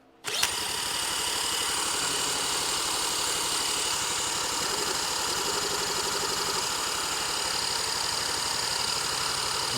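An electric starter cranks the engine of a 1977 Honda Z50 minibike fitted with an auxiliary fuel tank. After a sharp onset, a steady rapid mechanical chugging with a buzzing whine runs unbroken at even loudness for nearly ten seconds, up close.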